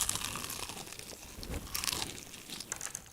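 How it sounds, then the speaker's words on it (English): Crunching bites into extra crispy, double-fried KFC chicken with thick breading, a run of close, crackly crunches and crinkles over about three seconds with no talking. "it gives that extra crispy crunch"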